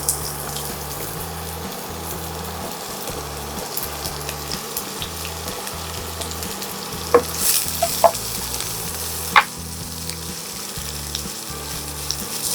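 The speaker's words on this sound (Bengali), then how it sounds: "এবার আমি পেঁয়াজটা দিয়ে দিচ্ছি।" Onions fry in a little oil in a pan for a chicken dish, a steady close sizzle with a few sharp spoon clinks and scrapes partway through.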